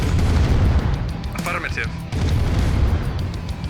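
Units firing in Command & Conquer Red Alert, with booming artillery-like shots and explosions, loud and repeated, while someone talks over the battle.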